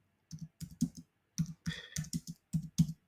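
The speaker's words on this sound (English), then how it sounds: "I'm just typing something here for Jimmy" Keystrokes on a computer keyboard while a chat message is typed, coming in quick irregular bursts of close, crisp clicks separated by short pauses, with no talking.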